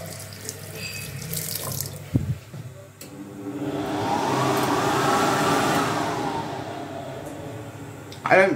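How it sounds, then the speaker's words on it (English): An electric hand dryer kicks on with a loud, steady rushing whoosh that runs for several seconds before cutting off, with faint talk around it. "I don't trust this hand dryer."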